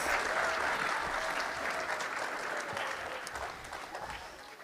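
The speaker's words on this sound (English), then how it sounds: "Can we give our cast and crew a round of applause for Easter Jam?" An audience at an Easter Jam church event applauds the cast and crew, a dense, sustained wash of clapping that fades slightly toward the end, heard at a distance and fairly quiet.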